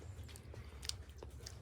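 Soft, close chewing and biting into a pavlova meringue dessert, with faint, irregular crunchy crackles and squishes over quiet room noise and no talking.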